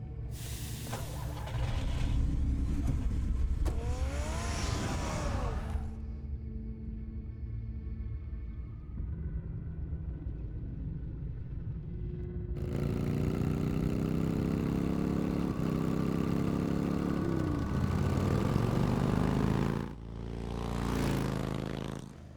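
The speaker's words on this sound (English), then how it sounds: "Get the car ready, Alfred." A car engine in a Batman video game starts and idles, then revs and accelerates into a steady drive, the mid-range engine noise sitting loud and continuous over game music, with a brief pause before it surges again.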